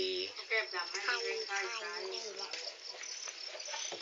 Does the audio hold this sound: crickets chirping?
yes